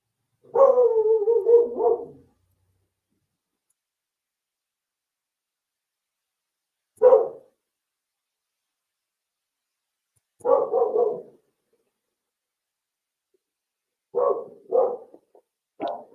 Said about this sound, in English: Dogs barking, going bananas.